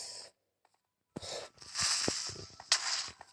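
A Minecraft Creeper explodes: a sudden loud blast after a brief silence, with crackling debris and rumbling bursts trailing off, then another sharp burst near the end.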